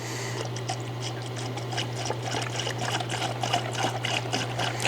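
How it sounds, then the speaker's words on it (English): G40 coolant pours steadily into the cooling system of an Audi S5 with the bleeder valve open, making a continuous close gurgling trickle of liquid over a low steady hum. "Now it's time to fill this thing back up with coolant."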